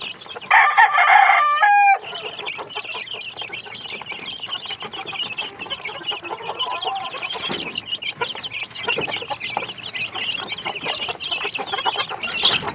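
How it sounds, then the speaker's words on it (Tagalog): A rooster crows loudly close by, then chickens and young chicks keep up a busy, continuous clucking and chirping throughout, with no talking. "Ito yung mga sisiw natin"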